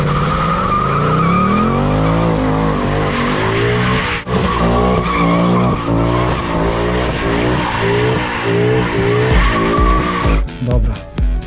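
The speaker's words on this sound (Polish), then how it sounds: "miałem okazję przypalić oponę w tym samochodzie" A 2020 Ford Mustang GT with a 5.0 V8 burning rubber, tires squealing loudly over the wavering, revving engine, with a short break midway and sharp clicks near the end.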